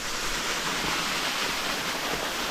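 Houdongkeng waterfall in Yilan, Taiwan, a small cascade in the hills, gives off a constant dense roar of falling water, close and steady with no pauses.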